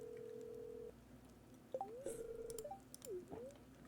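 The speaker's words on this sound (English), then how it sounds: "Let's go to the phone and ask Robin." Telephone dialing in the Stardew Valley video game, with a steady dial tone followed by a short run of chirpy, sliding electronic dial beeps, fairly quiet and with no talking.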